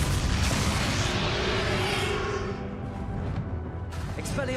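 The Glacius spell is cast in the Hogwarts Legacy video game during a battle: a loud, dense roaring burst with booming low end that fills the whole stretch, then eases slightly near the end.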